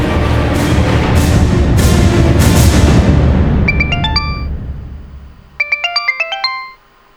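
An electronic phone ringtone plays a bright repeating melody in two bursts over a rumbling background that fades out, with no talking.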